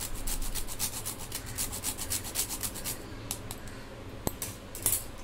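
Steady rhythmic rasping of an ingredient being grated over a metal grater into a gond (edible gum) laddu mixture, repeated strokes close by, thinning out toward the end with a couple of light clinks.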